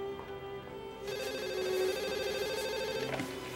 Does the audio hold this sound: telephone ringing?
yes